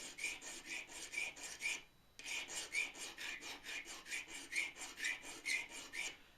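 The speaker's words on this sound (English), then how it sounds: "Hand grinder. Actually is a very good, gives a good edge" A hand grinder sharpens a pottery trim tool, giving off steady rhythmic rasping strokes, close and moderately loud, with a brief pause partway through before the scraping resumes.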